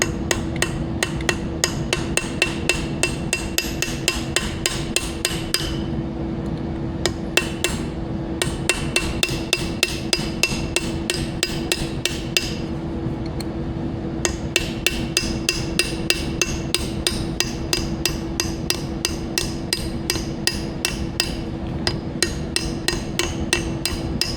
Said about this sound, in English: Get that pin drove out of there.